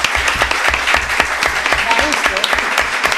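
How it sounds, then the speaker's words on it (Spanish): Audience applause after a lecture on Kant, a dense, even patter of many hands clapping close by, with a voice briefly heard among it. "yo creo que se merecen un fuerte aplauso"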